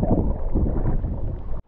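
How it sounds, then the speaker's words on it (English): Strong wind on a lake in the Noosa Everglades while boating, a loud low roar of gusts buffeting the microphone that continues steadily for nearly two seconds before cutting off. "That was so windy in there."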